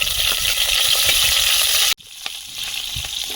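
Panch phoron and slit green chillies frying in hot oil, a steady loud sizzle that briefly cuts out, then returns with a few sharp crackles and pops.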